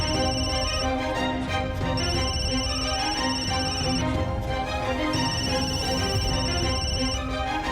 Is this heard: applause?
no